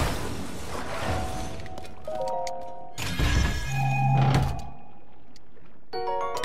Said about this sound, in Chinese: 然后我就把我的宝箱拿下来